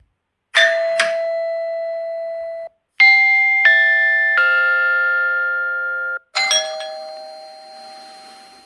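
A Xiaomi Smart Doorbell 3 plays its ringtone chimes alone, three separate bell-like sequences of clear ringing tones that each sustain and slowly fade, with short silences between them.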